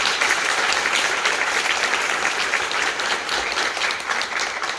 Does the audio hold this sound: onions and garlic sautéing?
no